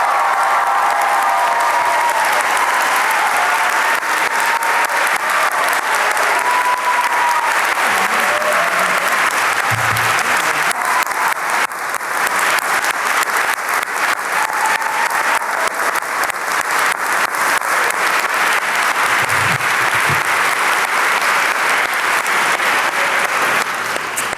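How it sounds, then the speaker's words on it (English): Sustained loud applause from a convocation audience honoring students inducted into Phi Beta Kappa, a thick continuous roar of many hands clapping that holds evenly throughout, with faint murmurs and no speech. "please join me in applauding these students"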